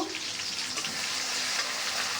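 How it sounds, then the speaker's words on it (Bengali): Potatoes and onions sizzle and crackle steadily in hot oil, a dense frying hiss filling the short stretch with faint stirring. "এই আলু আর পেঁয়াজ তেলে ভাজা"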